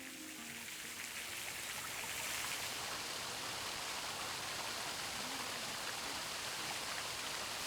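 A steady, dense rush of falling water from a waterfall beside a moss-covered rock wall in a Korean mountain forest, loud and continuous with no pauses.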